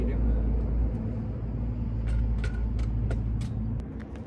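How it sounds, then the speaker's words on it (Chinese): Cars stream past one after another beneath a highway bridge near a county town in Gansu, a constant loud low road rumble with brief hissing swells as vehicles go by. "汽车是一辆接一辆。"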